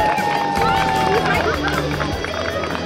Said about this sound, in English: Nice to see the crowd cheering them on.